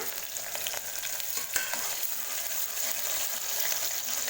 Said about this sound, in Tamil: சின்ன வெங்காயத்தை லேசாக வதக்கி விட்டுருங்க